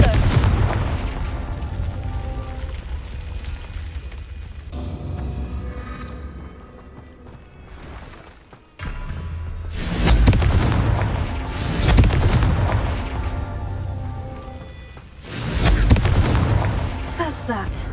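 Repeated heavy blasts from the Confringo blasting spell in Hogwarts Legacy, with several loud booming bursts separated by quieter stretches over a rumbling game soundscape, and spoken lines from game characters heard in between.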